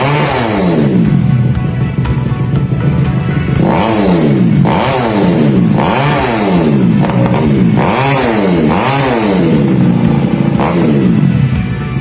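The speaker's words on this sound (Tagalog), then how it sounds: "Now we're gonna test the bike in its capacity of high RPM." A budget-built motorcycle engine revving hard at high RPM, repeated rising and falling throttle sweeps in a loud rhythmic cycle, close up with some mechanical clatter.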